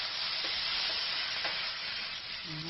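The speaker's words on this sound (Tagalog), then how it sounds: "pwede na ilagay ang kamatis. Gigisa rin natin." Tomatoes sautéing in a pan for pakbet, a soft continuous sizzle with a few faint stirring scrapes, fairly quiet and close, no talking.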